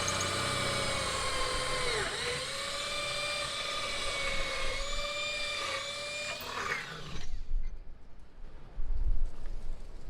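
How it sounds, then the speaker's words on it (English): A power drill bores a 1/4-inch pilot hole through angle iron for a bike rack on a cargo trailer, a sustained high whine that dips in pitch under load, then cuts out, leaving faint handling knocks. "now I just need to drill 2 holes, one on each of these"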